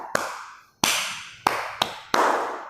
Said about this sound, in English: Give a clap.